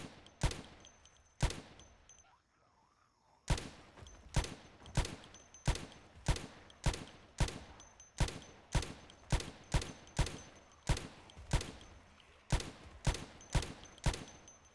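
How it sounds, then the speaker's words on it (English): Unsilenced rifle shots in Project Zomboid crack out one at a time in a rough, steady rhythm, about twenty loud sharp reports after a brief pause near the start, with no talking. "I got one of the rifles that doesn't have a silencer"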